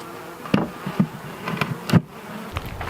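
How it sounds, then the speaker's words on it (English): Honeybees buzzing close around a feeder made from recycled jars, a droning hum with several louder passes as individual bees fly near. "the bees are going to be able to get up there and clean that out"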